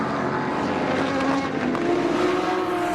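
Prototype sports cars roar steadily out of turn 10 at Watkins Glen during the Six Hours of the Glen, a loud continuous engine drone with a layered pack of cars sustaining the pitch throughout.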